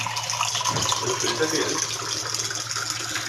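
Water runs steadily from the tap of an Aquaguard RO water purifier, a close, continuous splashing hiss, while someone talks over it.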